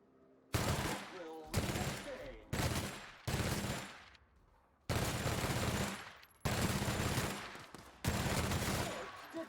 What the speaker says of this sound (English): let's try out our new much up-powered light machine gun